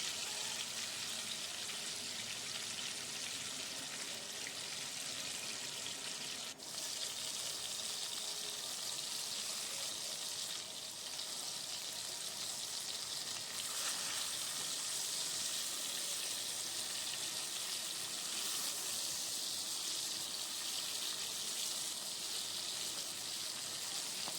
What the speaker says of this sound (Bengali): সেই জন্য মাছটা ভেজে নিচ্ছি খুব কড়া করে ভাজার দরকার নেই